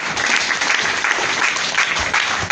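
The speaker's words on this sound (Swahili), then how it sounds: "Hebu tupigie Bwana makofi makubwa." A church congregation breaks into loud, sustained applause, dense clapping from many hands filling the room without a break and with no voices on top.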